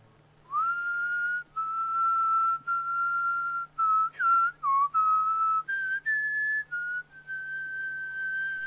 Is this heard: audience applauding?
no